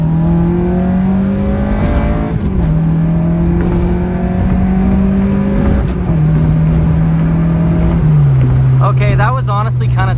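A car accelerates hard from a standstill through a 0 to 60 test, its loud engine climbing in pitch through several gear shifts, with speech over the engine noise.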